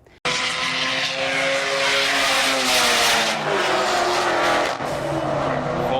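A Volkswagen Golf R races a Hellcat, with a loud, sustained engine roar close by whose pitch climbs steadily through the gears, plus a brief shift dip near the end.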